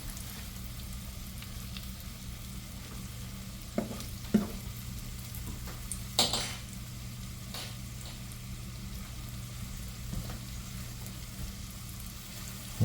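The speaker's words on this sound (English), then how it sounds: "I've still got the big crappie that's cooking" Crappie fish fillets fry in a pan with a constant, even sizzle. A few soft clicks and clatters from the pan or utensils break in along the way, all at close range with no talking.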